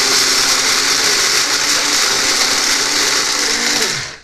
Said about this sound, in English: Now to take some grinder and grind it on up.